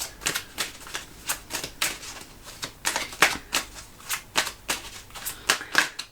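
Tarot-style cards shuffled repeatedly during a card reading, a steady series of sharp riffling snaps roughly every third of a second, close up and moderately quiet.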